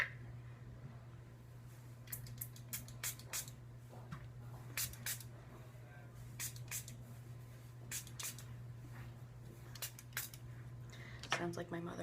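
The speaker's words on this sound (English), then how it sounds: "this little beach spray for my hair" Short hissing bursts of beach hair spray come in quick, irregular puffs over a low steady hum, fairly faint and close by.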